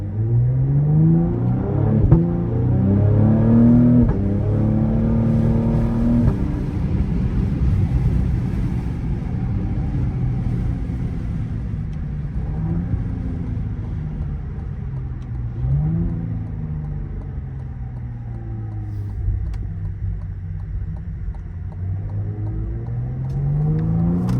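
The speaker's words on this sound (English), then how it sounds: "you can hear the turbos" A Cadillac CT5-V engine revs and accelerates with a deep rumble, pitch rising and falling in repeated surges, turbo whine audible over a steady loud drone, at night.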